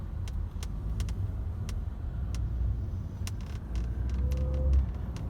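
A W204 Mercedes C180 1.6 supercharged engine hums and rumbles steadily from inside the cabin under acceleration, rising a little in strength toward the end, with faint clicks and rattles.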